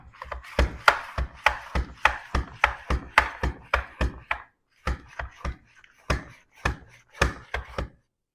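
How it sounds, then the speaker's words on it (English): Thin slices of zucchini cut on a mandolin in a home kitchen make a quick run of sharp, rhythmic strokes, close and clear, with a short pause partway through and no talking. "I'm going to use a mandolin to cut this as thin as possible"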